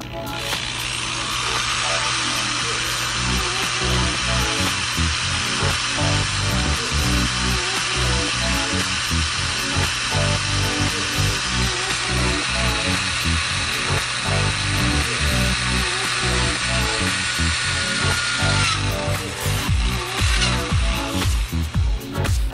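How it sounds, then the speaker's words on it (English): A power drill bores a hole through an acrylic blank for a removable fake ice topper, giving a loud, steady high-pitched whine with a grinding edge that runs almost unbroken for about eighteen seconds before stopping. "Now going to take my drill and we're going to drill a hole"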